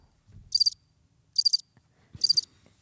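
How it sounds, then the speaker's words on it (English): A button-triggered cricket chirp sound effect plays three short, evenly spaced bursts of high trilling, crisp and isolated against near silence. "I thought you were about to do the crickets"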